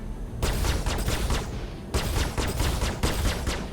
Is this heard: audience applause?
no